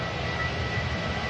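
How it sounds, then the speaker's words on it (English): Jet2 Boeing 737 airliner taking off at Manchester Airport on a windy day, a steady broad engine roar without pauses. "But first out, we have this Jet2 737 off to Murcia."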